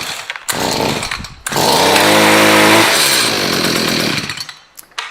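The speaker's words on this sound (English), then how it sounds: "I'm going to pull it 1 or 2 more times and it's going to fire up." A STIHL HS 45 gas hedge trimmer fires up after a pull start, its small two-stroke engine sputtering briefly, then roaring loudly and steadily up close before dropping back to a rough idle.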